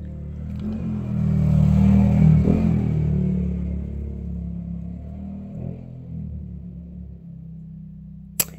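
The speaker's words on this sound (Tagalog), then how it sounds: "Daming mga motorsiklo, guys, na malalaki ang boses." Several loud motorcycles with loud exhausts pass close by, a heavy low engine rumble that swells, peaks, then slowly fades as they move away, with a brief sharp clack near the end.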